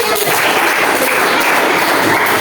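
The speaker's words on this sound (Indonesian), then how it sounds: "beri tepuk tangan" Students in a classroom break into brisk, dense clapping after a craft lesson on tying stems with PE paper, a loud continuous patter lasting a couple of seconds without any voices.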